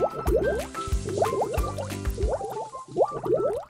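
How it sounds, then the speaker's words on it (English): Cartoon bath-time water effects: bubbly, gurgling splashes and pouring sounds arrive in four close, lively bursts with short pauses between them, loud and clear, with no talking. "Splash! Splash! They wash each other with water."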